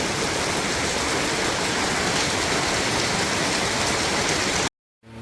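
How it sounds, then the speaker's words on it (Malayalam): Heavy steady rain pours down on a holiday morning, a dense continuous hiss that fills the air and then cuts off abruptly just before the end. "അങ്ങനെ മഴ പെയ്യുന്നുണ്ട്"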